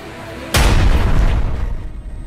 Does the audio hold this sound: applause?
no